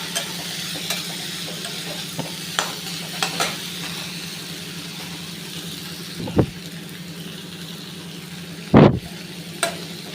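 Vegetables stir-fried for vegetable upma give a continuous sizzle, broken by scattered clicks and scrapes of a spatula against the pan and one louder clatter near the end.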